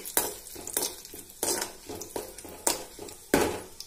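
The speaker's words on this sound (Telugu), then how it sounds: "ఫస్ట్ అయితే స్టవ్ పైన బాండి పెట్టేసుకొని ఒక 4 టీ స్పూన్ల ఆయిల్ అయితే వేసిన నేను. ఫస్ట్ అయితే ఎండుమిర్చి వేసేస్తున్నా." Dried red chillies frying in about four teaspoons of oil in a pan for curry leaf chutney, heard as a quiet soft sizzle broken by regular clattering stirs and scrapes of a utensil against the metal.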